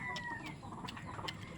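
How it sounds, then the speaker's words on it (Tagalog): A hungry pet chicken clucks in short repeated bursts, close and fairly loud, over steady farmyard background noise. "yung manok na alaga ko. Oh, umiiyak na,"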